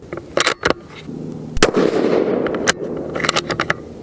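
A single sharp rifle shot from a Tikka T3X Super Varmint in .223 Remington cracks loudly up close, followed by a rumbling decay and a few quieter clicks and knocks of handling.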